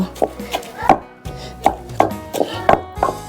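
Garlic is pounded in a mortar with about ten sharp, irregular thuds close by, each a short percussive knock with brief pauses between.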